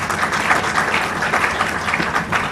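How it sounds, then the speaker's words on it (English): Audience applause at a roundtable discussion event, a dense, steady wash of many hands clapping together at close range, sustained at an even loudness throughout with no voices. "Please clap for yourselves."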